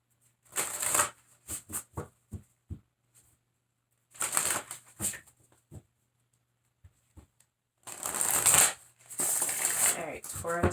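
Message cards being shuffled by hand, a few quick riffling bursts and taps separated by pauses, then a longer, louder shuffle near the end, close to the microphone and without talk.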